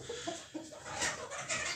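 A group of young roosters cluck softly nearby in a farm poultry house, with short scattered clucks and low chatter over quiet background noise.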